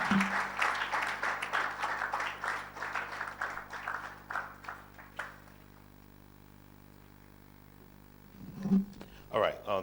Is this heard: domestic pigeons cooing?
no